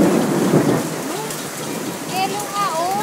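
Hail pours down in the Philippines, a loud, dense clatter and hiss of falling ice with rumbling thunder beneath, while voices chatter excitedly over it.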